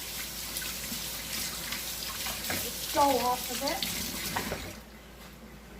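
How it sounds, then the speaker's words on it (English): A kitchen tap runs steadily while hands are washed beneath it during artisan baguette making, with splashing that swells briefly mid-clip before fading; a voice speaks over the water. "And just let it sit there and wash my hands."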